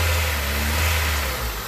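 A car engine running rough on cheap new fuel injectors, heard up close as a loud, steady low drone with slight unevenness in its note and no talk.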